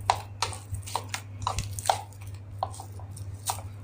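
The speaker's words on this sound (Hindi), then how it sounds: "तो हल्का सा पानी डालकर इस तरह से अच्छे से गूंद लेते हैं," Hands knead semolina dough with a little water in a home kitchen, making soft, rhythmic squishing and slapping pushes about twice a second, close up, with a steady low hum underneath.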